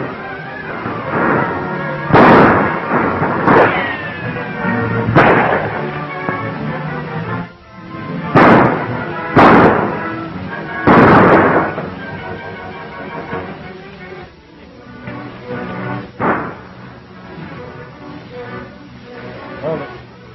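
Repeated loud gunshots crack out in irregular bursts, some overlapping and echoing, with shouted voices and tense talk between volleys before the firing thins out and stops.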